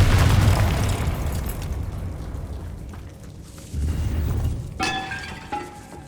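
A Confringo explosive spell from Hogwarts Legacy detonates with a loud, heavy blast at the start, its rumble fading into debris and a smaller second burst, then crackling and ringing tones toward the end.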